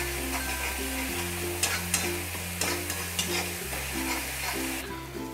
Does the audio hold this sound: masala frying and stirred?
yes